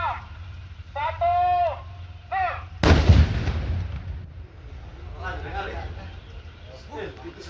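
Seized fish-bomb detonators and fuses are destroyed in a single loud, sharp blast that booms and rumbles away over several seconds, with voices talking before and afterward outdoors.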